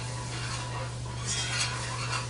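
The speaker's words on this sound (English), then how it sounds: "We're just going to cook that, cook and stir." Butter and flour stirred together in a pan for a sauce, a steady soft scraping and faint sizzle with light utensil movement throughout, close and fairly quiet.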